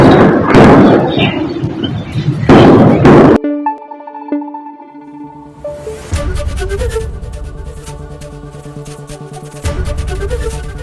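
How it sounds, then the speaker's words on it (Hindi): Several loud explosions and thuds crack out near the start, followed by a stretch of tonal, droning noise with scattered sharp gunfire impacts, in a militant attack on Pakistani army posts. "आवाज सुन रहे हैं आप, यही वो धमाकों की आवाज है,"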